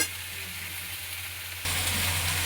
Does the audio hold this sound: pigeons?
no